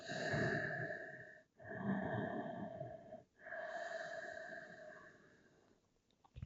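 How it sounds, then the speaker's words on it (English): Deep belly breaths during a yoga class for spinal mobility: three long, close breaths separated by brief pauses, with a faint hum underneath. "Big belly breath"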